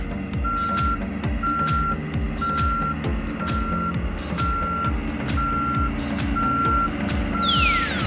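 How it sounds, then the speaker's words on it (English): A concrete mixer truck's reversing alarm beeps steadily, eight evenly spaced tones over a loud rumbling diesel engine nearby. "Concrete mixer truck."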